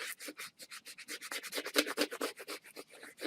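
A cut vinyl design is burnished onto a notebook cover, a quick series of soft, rhythmic rubbing strokes close up, each a short scratchy swish, with no voice.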